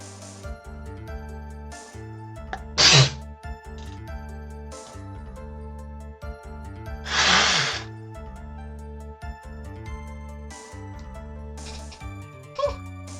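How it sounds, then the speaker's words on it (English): A streamer with allergies sneezes, two sharp bursts at close range, each standing out clearly over steady background game music, with a smaller third one near the end. "I might be sneezing a fair bit this stream"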